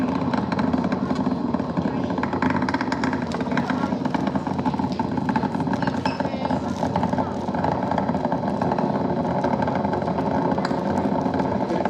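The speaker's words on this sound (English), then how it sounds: "The 4 core stage engines are back at maximum thrust." The four core stage engines of a rocket at maximum thrust during launch give a dense, continuous roar that stays loud and steady throughout, with voices talking underneath.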